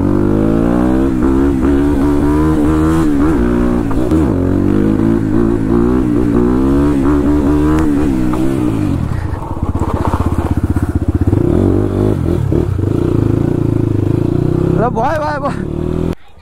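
Motorcycles rev hard while riders pull wheelies on the way to Khotang, a loud, close engine roar rising and falling with throttle blips throughout, with people talking and shouting over it.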